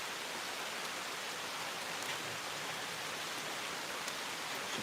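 Steady outdoor rain hisses evenly throughout, soft and distant, with no voices and no distinct drops standing out.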